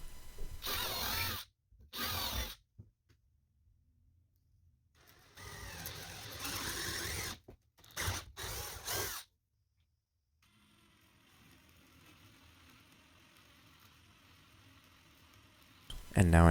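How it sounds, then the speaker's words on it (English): A power drill bores holes into a wooden base for a kitchen addition, whirring in several loud bursts separated by silent pauses, then quieter background noise near the end. "From here I will drill 2 holes so that I can run bolts through them"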